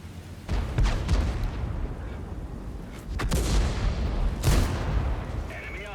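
In a medium tank video game, tank cannons fire HEAT rounds as several heavy booms spread across a few seconds, each with a sharp crack and rumbling tail, over steady background noise.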